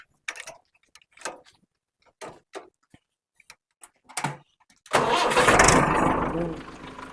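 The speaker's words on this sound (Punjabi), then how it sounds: "ਟਰੈਕਟਰ ਦੀ ਸਟਾਰਟਿੰਗ ਕਰ ਦਿੰਨੇ" After several short bursts of voices, a tractor engine cranks and roars to life, then settles into a loud, steady rumble nearby.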